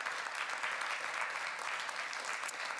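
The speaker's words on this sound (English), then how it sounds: "give the warmest of rounds of applause to these delightful speakers." An audience claps steadily throughout, a warm continuous wash of applause at moderate volume.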